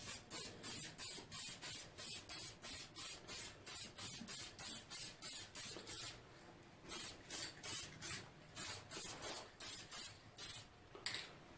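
Aerosol can of lacquer spraying onto 3D-printed knobs for a 1934 Grunow 501 tube radio, a rapid series of short, sharp hissing bursts in a steady rhythm, close and fairly loud, with a brief break midway.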